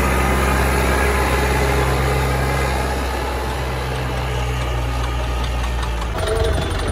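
A homemade tractor engine runs close and loud with a steady, knocking diesel-like chug and low rumble throughout, shifting slightly in tone near the end.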